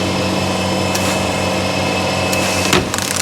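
A vinyl record trimming machine at a Caribbean pressing plant trims a freshly pressed record, giving off a loud, steady mechanical whir with a high whine and a brief clatter near the end.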